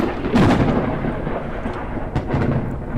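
A thunderstorm in the Forever Skies video game rolls in as low rumbling thunder, with a louder crack near the start and another around two seconds in, over a steady storm wash.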